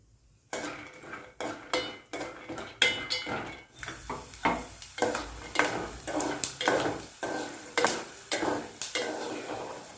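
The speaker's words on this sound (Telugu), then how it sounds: "పల్లీలు ఆయిల్లో వేసుకొని వేయించుకోవాలి" Peanuts being fried in a little oil in a pan, with repeated scraping and clinking of a spatula stirring them at a steady rhythm over a soft sizzle, close and without talk.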